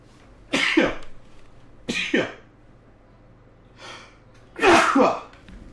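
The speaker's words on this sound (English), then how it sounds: "I'm about to sneeze" A man sneezes several times in a row, each a sharp burst with about a second or two between them, ending with a final louder explosive sneeze, close to the microphone with no talking.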